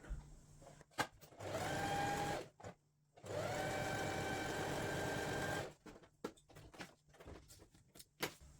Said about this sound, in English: I've gone ahead and sewn that next pop of colour on